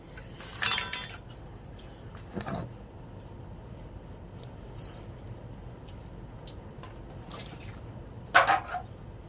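A family eating a home meal at the table, with scattered clinks of cutlery against dishes, a few sharper scrapes standing out over a quiet room.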